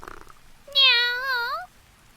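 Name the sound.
cat approaching the house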